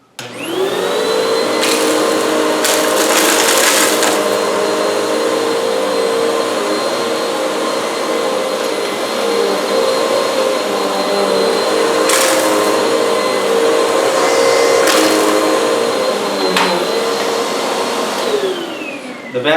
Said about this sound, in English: The vacuum is able to take care of most of those on the high pile setting